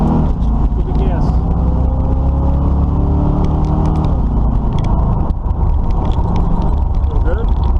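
A Camaro engine with a newly installed carburetor revs steadily throughout, a loud and close mechanical rumble with rising and falling pitch, while people talk over it.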